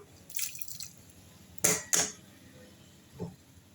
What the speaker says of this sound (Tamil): இப்போ இந்த காயை எடுத்து வேக வச்ச காயை அதில் கொட்டிடலாம்